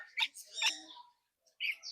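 Rainbow parrot in a nature park giving short, faint chirping calls in two brief bursts separated by a pause.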